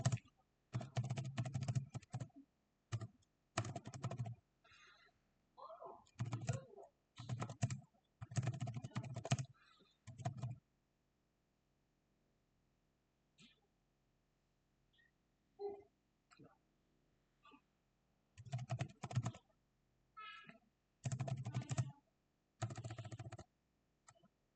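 Bursts of typing on a computer keyboard while writing a simple calculator script with AI-assisted coding in VS Code, with clusters of rapid key clicks separated by pauses, close and moderately loud with a few quiet gaps.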